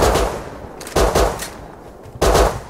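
Automatic rifle fire in the survival game Rust, three loud, close bursts of rapid shots separated by short pauses, each crackling burst fading into a brief echo.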